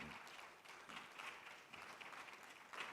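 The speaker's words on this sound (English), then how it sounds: "maybe some applause" Faint applause from a conference audience at a Ghana bank event, heard as a steady distant wash of clapping.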